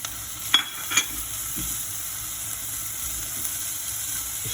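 Garlic and oregano sizzle in a pan while mussels provençale are being made, a steady soft hiss with two sharp clicks of a utensil near the start.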